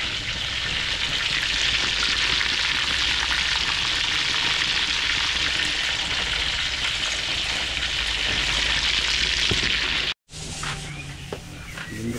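Cordon bleu sizzles and crackles steadily in hot oil for a long stretch, broken by a brief cut near the end before the frying continues.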